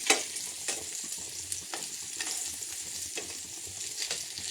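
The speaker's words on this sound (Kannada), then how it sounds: "ಈ ಥರ ಶಾಲೋ ಫ್ರೈ ಮಾಡಿಬಿಟ್ರೆ ಮತ್ತು ಟೇಸ್ಟು ಇರುತ್ತೆ" Pieces shallow fry in a pan, giving a constant close sizzle that runs the whole time, with a few light spatula scrapes and stirs rising above it and no voices.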